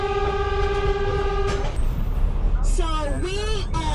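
A train horn on a scenic railway ride on St Kitts sounds one long steady blast, then a rising, wavering whistle-like tone comes later, over constant rolling rumble with a voice talking throughout.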